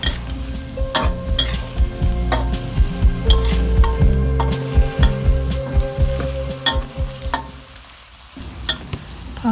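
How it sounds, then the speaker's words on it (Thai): Pork belly mixture stir-fried in a pan for a basil stir-fry, loud close sizzling broken by repeated rhythmic spatula scrapes and knocks against the pan, with no one speaking. "เติมเสร็จแล้วก็ผัดส่วนผสมให้เข้ากันค่ะ"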